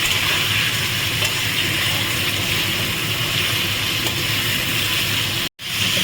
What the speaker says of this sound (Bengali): পেঁয়াজের সঙ্গে এবারে চিকেনটা কিছুক্ষণ ভাজা ভাজা করবে।